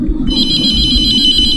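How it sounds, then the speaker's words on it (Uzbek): A telephone ringtone plays loud and steady from a horror game set in a mortuary, a continuous repeating electronic tone that starts just after a brief moment of low background rumble. "Telefon."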